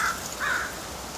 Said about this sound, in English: there was more crows than I ever even knew was around here